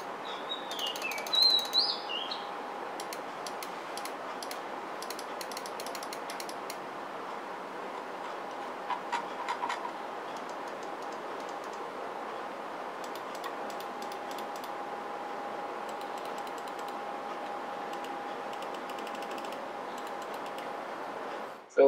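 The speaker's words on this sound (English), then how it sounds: "This is the click button sound test." Logitech G102 gaming mouse buttons click in rapid light ticks, with bursts of quick clicks early and again midway over a faint steady background hum.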